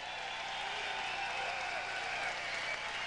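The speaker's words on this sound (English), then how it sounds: "Big round of applause for these gladiators" Arena crowd applause following a professional boxing bout, a faint, steady wash of clapping heard from a distance, with no distinct voices standing out.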